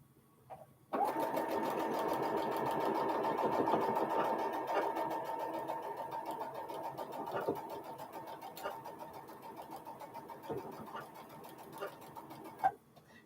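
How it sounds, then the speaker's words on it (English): A domestic sewing machine runs steadily while sewing border strips onto hourglass quilt blocks: one long continuous whirring run with rhythmic needle ticking, starting abruptly after a short pause and ending with a small clack. "let me get myself all situated to sew some more border strips on my hourglass blocks"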